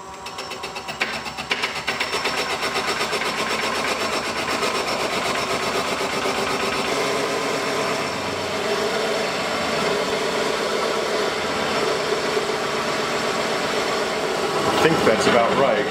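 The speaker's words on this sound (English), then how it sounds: "So here's our blank, all mounted on the lathe." A wood lathe spins a dyed cork coffee tumbler blank, giving a steady, continuous mid-pitched hum and whir at close range that holds evenly throughout, with a brief clunk near the end.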